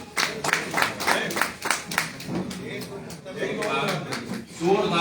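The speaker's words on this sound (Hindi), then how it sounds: "जोरदार तालियां भाई अमर श्रीवास्तव जी के लिए" Loud applause for the poet Amar Srivastava at a launch ceremony for a collection of muktak poems, with clapping swelling in bursts over a steady crowd, while someone speaks throughout.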